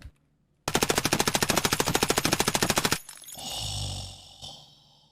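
A suppressed MP5 SD submachine gun fires a rapid sustained burst in the video game Escape from Tarkov, loud and close, followed by a low rumbling roar and a brief thump.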